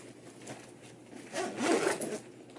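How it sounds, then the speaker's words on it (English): A zipper drawn closed along a Rothco Everyday Carry Transport Pack backpack, one close rasping pull that swells to its loudest near the end and then trails off. "and then I just zip it all up"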